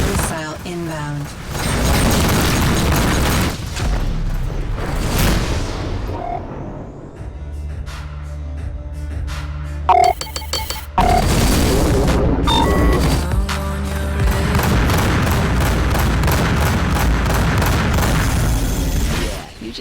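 Incoming missiles explode around a spacecraft in the space combat game Rebel Galaxy Outlaw, loud booming blasts and rumbling bursts, dropping to a quieter stretch mid-way before a sharp crack and renewed heavy explosions.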